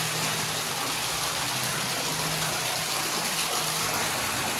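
Water from a 150-foot side borewell gushing out under air pressure in a steady, loud, broadband rush that stays constant without pause.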